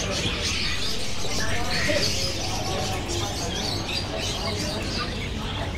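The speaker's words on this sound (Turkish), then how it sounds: "Böyle her yerde kuşlar satılıyor ya" Many caged birds for sale chirp and tweet at a large bird market in Qatar, a dense, continuous chatter over steady crowd noise with voices talking in the background.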